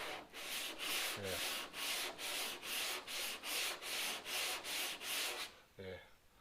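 Body filler is sanded on a Ford XY sedan under restoration with about a dozen rhythmic, close back-and-forth strokes, a steady scratchy rasp that stops with a couple of light knocks at the end.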